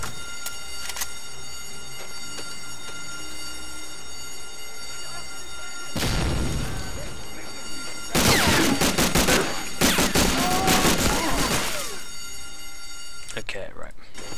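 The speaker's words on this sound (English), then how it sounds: "That grenade explodes." A grenade blast and the heavy clatter of gunfire from the World War II shooter Medal of Honor: Allied Assault, with loud bursts erupting twice over a steady background drone.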